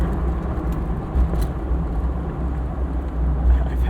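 A 1977 Ford Bronco drives along with a dense, steady low engine and road rumble heard from inside the cabin, with some wind buffeting and no speech.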